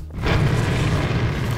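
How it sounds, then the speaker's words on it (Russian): A deep, sustained explosion rumble from the Garry's Mod video game, a loud low boom that swells and holds steady for over a second with no talk over it. "Ребята, как всегда, для вас самые эпичные взрывы."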